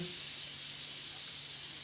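Steam hisses steadily out of a cooker's steam release, a continuous bright, close hiss with a faint low hum beneath and no talking.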